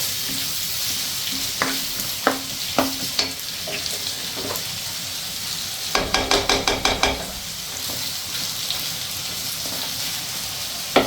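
Onions fry in a pan until light brown, giving a continuous close sizzle broken by spatula taps and scrapes, including a quick run of rapid clacks near the middle; no voices.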